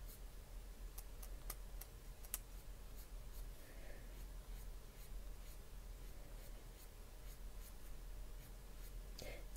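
A sharp Prismacolor colored pencil flicks short strokes across paper, a faint scratchy rasp with intermittent ticks over low room hum.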